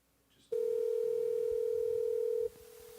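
A steady, loud telephone tone sounds for about two seconds as a call is placed, then falls to a quieter continuing tone, with no one speaking.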